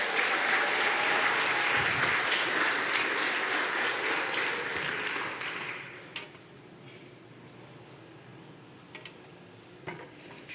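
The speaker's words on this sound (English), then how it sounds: "I think he needs another round of applause" A congregation at a Sunday celebration service gives a round of applause for Sal, loud and sustained for about six seconds before thinning out to a few scattered, fading claps in a quiet room.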